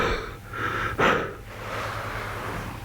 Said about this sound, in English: I'm going to put my head in here and do a bit of heavy breathing